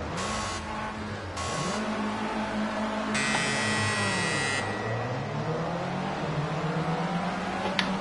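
A Formula C race car in Project Cars 2 revs and pulls away from pole position, its engine climbing through the gears in rising sweeps, loud and close, with short buzzy electronic tones over it.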